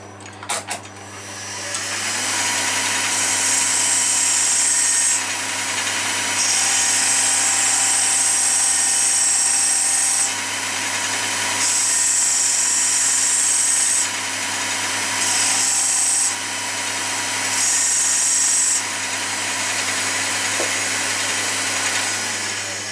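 A power tool whirs steadily while working a small boxwood ring, its high-pitched drone running loud and continuous and dipping in intensity several times as contact with the wood comes and goes.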